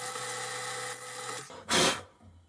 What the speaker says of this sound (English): it's just drilling out the kind of residue from this hole.